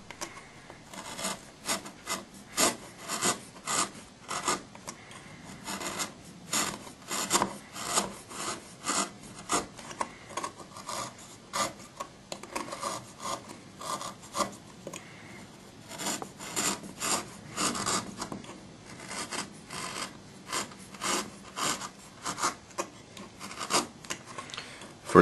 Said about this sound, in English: I want to round off the back edge of the block here, and I'll do that using a nice sharp X-Acto knife